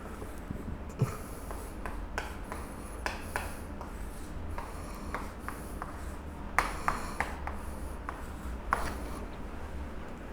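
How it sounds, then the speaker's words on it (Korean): Chalk or marker strokes on a board as a chemistry equation is written out, a steady run of short scratchy taps and scrapes close by with no talking. "우리가 잘 아는 반응식을 한번 써볼게요"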